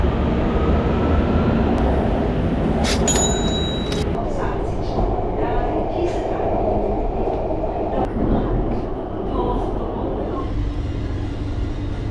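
A metro train in Thailand rumbles loudly and steadily, with a brief high electronic tone early on and indistinct voices mixed into the rolling noise.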